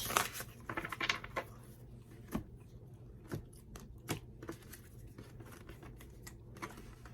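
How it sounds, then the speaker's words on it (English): Soft, irregular flicks and taps of tarot cards being shuffled by hand, close and fairly quiet, with small pauses between bursts. "one last shuffle"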